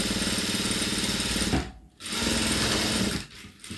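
A sewing machine stitches a sleeve hem in steady, rapid bursts of mechanical whirring, stopping briefly twice before carrying on, heard up close with no talk.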